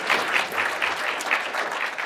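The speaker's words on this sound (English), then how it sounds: "We can clap that if it resonates." An audience claps in steady, continuous applause for about two seconds, loud and close, with no talking.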